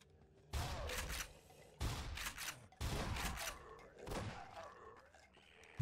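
Shotgun blasts from Half-Life 2 boom in close succession, three heavy broadband shots about a second apart with a softer thud after, loud and near over a low game ambience.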